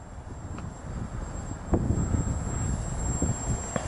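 A Twisted Hobbies Crack Turbo Beaver RC plane with a 9x4 prop on a 2S battery whines faintly overhead. Strong wind rumbles against the microphone, with a few sharp gusts.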